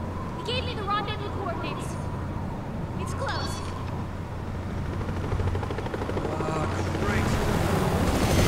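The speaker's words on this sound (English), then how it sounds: "Being chased by a chopper." A helicopter in chase in the video game Resident Evil 6, its steady loud rotor roar droning throughout alongside siren-like tones and game effects, with a voice speaking over the din.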